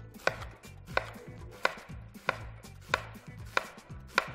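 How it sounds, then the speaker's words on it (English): Knife chopping vegetables (onions, jalapeño and serrano peppers, tomatoes, cilantro) on a cutting board for sautéed Mexican veggies, seven crisp evenly spaced chops about 0.65 seconds apart, close with no talking. "Let's cut some vegetables."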